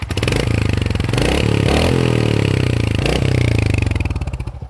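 A 2023 Royal Enfield Hunter 350 motorcycle engine runs close by, a loud steady thumping rumble with a couple of brief throttle blips that lift the pitch before settling back.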